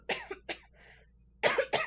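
A person coughs in two sharp bursts, then again twice more after a short quiet gap, close and fairly loud against a quiet room.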